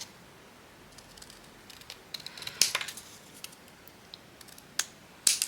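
Scissors snip through paper in a quiet room, a handful of sharp, separate cuts spaced irregularly with soft rustling between them, close and clear.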